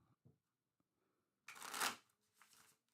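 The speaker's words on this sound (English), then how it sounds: "I'll just shuffle these up really good." Tarot cards are shuffled in one quick riffling burst after a few faint taps and a near-silent pause, then a softer trailing shuffle, close and quiet.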